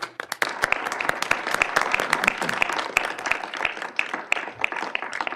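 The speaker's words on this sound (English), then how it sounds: "And applause." Steady applause fills a county commissioners business meeting, many hands clapping at a brisk, even rate for several seconds, close and moderately loud, with no talking over it.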